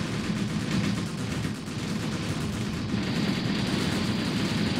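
Dense, continuous gunfire from troops attacking MPLA infantry in bush cover, in the 1980 Angola setting of the video game Graviteam Tactics. Overlapping shots and bursts roll on steadily at a distance, with no pauses.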